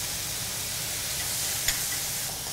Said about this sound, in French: Dès que le lard il commence à rendre un peu le gras, on va tout de suite mettre les oignons